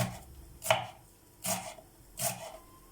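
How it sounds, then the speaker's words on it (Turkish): Knife finely chopping greens for Turkish tirşik on a board, three distinct cuts spaced about a second apart, close and fairly quiet with nothing else around. "Çok ince kıyarsak daha pişmesi kolay olur."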